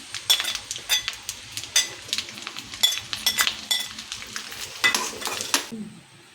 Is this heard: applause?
no